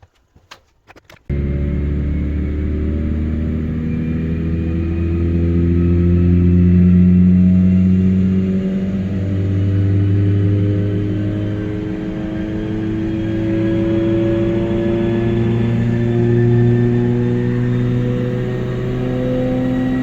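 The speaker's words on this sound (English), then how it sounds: "I'm just driving it on the dyno and I'm trying to get that fuel to mix" A Honda Civic Si runs on a dyno with a flex-fuel setup, its engine droning steadily and loudly for the whole stretch, pitch rising and falling gently as it holds load.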